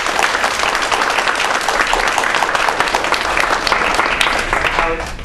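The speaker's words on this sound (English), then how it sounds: "give another round of applause for all the members from our local Toastmasters" Sustained applause from an audience at a Toastmasters club tea-time event, dense steady clapping throughout, loud and close, fading slightly at the end.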